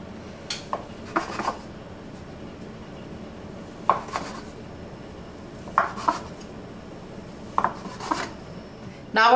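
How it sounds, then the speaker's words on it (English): A knife slices through rolled cinnamon roll dough on a board, producing about six separate short cutting and tapping sounds spaced a second or two apart, with quiet room background between them. "We're going to cut this into 8 cinnamon rolls."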